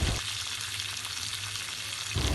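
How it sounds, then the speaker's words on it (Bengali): Boiled eggs and potatoes sizzle in hot oil in a wok, a steady dense frying hiss held without a break, loud and close, with no voices. "শুরুতেই একটি কড়াইতে রান্নার তেল গরম করে নিব। দিয়ে দিব সিদ্ধ করে রাখা ডিম এবং আলু।"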